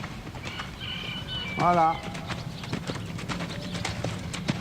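Horse hooves clip-clop through a riding lesson as an instructor speaks in French, steady footfalls under the voice with faint bird chirps around the arena.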